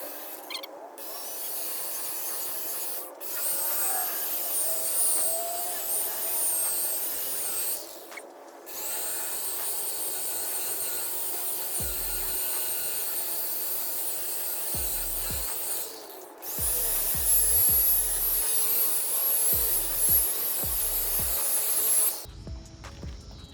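Whirring grind of a power buffer polishing scratches out of the gel coat on a 1992 bass boat, running in long stretches broken by brief stops and short bursts toward the end, close up with no talking.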